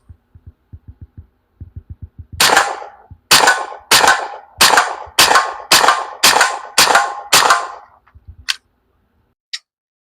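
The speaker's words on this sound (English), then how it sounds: "we're going to do a little more shooting" An AEA T30 air rifle fires about nine sharp, loud shots in a steady rhythm roughly every 0.6 seconds, after a run of soft mechanical clicks. No one speaks.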